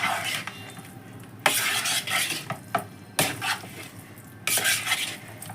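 Small fish pieces being tossed and mixed with masala, with bursts of clattering utensil-on-vessel scraping separated by short quieter gaps, close and fairly loud.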